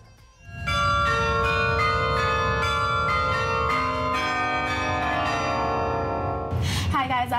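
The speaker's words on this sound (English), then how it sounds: "she ascended to the carillon bells to meet the man who plays eight times a week for the benefit of the community" A carillon player strikes a ringing sequence of large tower bells, the bright tones overlapping and sustaining loudly near the instrument, with the ring swelling again at the end.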